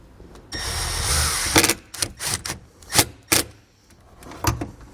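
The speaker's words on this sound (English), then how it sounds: "to do that I'm going to use the included self-tapping screw. So I'll get that lined up and ran down." A power driver whirs as it sends a self-tapping screw into the metal body of a 2021 Toyota, followed by a series of sharp clicks and knocks as the screw seats, all heard up close.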